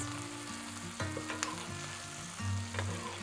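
Garlic and asparagus sizzling in butter in a pan while elk poppers are cooked, a dense close frying hiss with light clatters and scrapes as the food is tossed, no voices.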